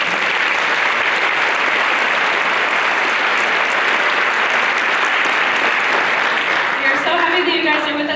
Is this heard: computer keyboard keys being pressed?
no